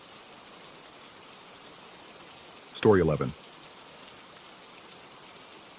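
Soft, even rain hisses steadily throughout, and a short spoken phrase briefly rises above it in the middle.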